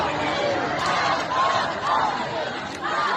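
A large protest crowd at a funeral in Abdanan, Iran, chanting in unison against the supreme leader, a dense roar of many voices rising and falling in rhythmic waves, close and loud throughout.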